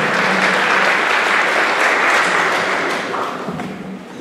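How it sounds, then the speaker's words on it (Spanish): A crowd at an 18th birthday party in San Marcos, Guerrero, breaks into dense, steady applause that holds loud and full for several seconds before thinning slightly toward the end. "Un aplauso para Florencia."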